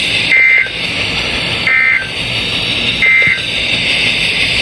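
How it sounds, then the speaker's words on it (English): A NOAA weather radio warning alarm sounds in three loud, evenly spaced tone bursts, each about a third of a second long, over a steady broadcast hiss with no speech. "This ends the test of the National Weather Service weather radio warning alarm."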